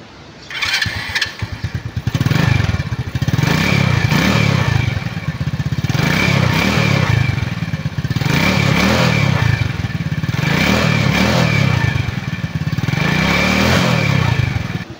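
A Rusi Surf 125 motorcycle starts up, then idles with a throaty putter and revs repeatedly in rising and falling surges, close and loud, with no voices.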